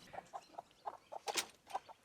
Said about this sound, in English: Oh, there's a chicken in there.